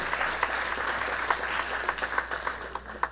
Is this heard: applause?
yes